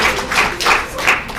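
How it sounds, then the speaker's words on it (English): Audience applause at a disability conference session, a steady wash of clapping with rhythmic swells, moderately loud and without speech. "let's give her a round of applause"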